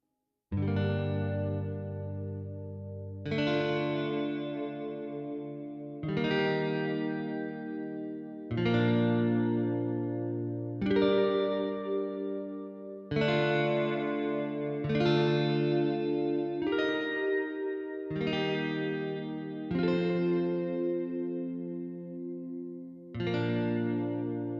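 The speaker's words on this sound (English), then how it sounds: "Then we have shimmery chords," Shimmery guitar chords from the Velvet Guitars sample library, about ten strummed chords played at an even pace, each ringing with a bright, lush sustain.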